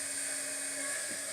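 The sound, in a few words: embossing heat gun heating up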